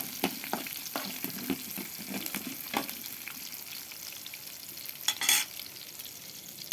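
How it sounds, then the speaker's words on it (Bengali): Onion and garlic fry in plenty of oil with a soft, steady sizzle, broken by a few close stirring scrapes and a brief louder hiss near the end. "পেঁয়াজ আর রসুন দিয়ে দিলাম তেল একটু বেশি হয়ে গেছে অবশ্যই"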